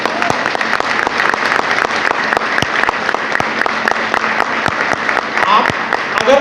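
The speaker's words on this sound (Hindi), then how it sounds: "एक बार अपने लिए तालियां बजा" A room full of people at a motivational seminar clap for themselves, with loud, continuous applause and crisp individual claps standing out close by.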